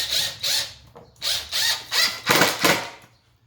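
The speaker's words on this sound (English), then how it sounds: "we'll just sink this screw" Screw being driven into a plastic feed bucket for a DIY chicken feeder, a run of ratcheting, grinding bursts in quick succession, close and fairly loud with no talk.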